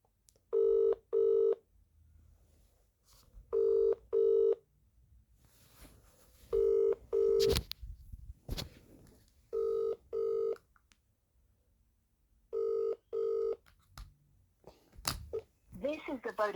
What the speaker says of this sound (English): Ring up Christopher Browell.